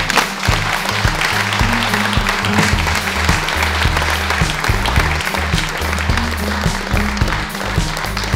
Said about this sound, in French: qu'on les applaudisse à tout rompre pour qu'elles entendent dans les cuisines